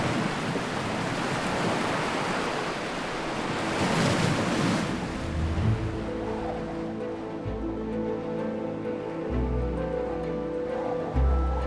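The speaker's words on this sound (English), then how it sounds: "Falling winds lash the surface of the water. Waves can reach meters in size." Sea waves lashed by strong falling winds, a loud continuous roar of surf and gusting wind buffeting the microphone, heaving steadily with no speech.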